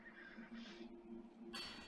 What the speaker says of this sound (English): Here's me talking to my horse, and the horse talks back to me.